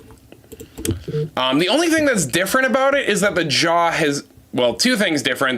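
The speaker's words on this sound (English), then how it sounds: "As my loud keyboard as I try and find a picture for it." A loud computer keyboard clatters with rapid typing throughout, running beneath a person talking steadily.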